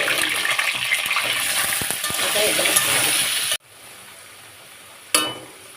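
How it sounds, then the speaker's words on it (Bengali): Potatoes frying in oil with turmeric give a loud, dense close sizzle with light stirring clicks, then it cuts to a quieter hiss and a brief sharp clatter. "আলু ভাজা হয়ে গেছে"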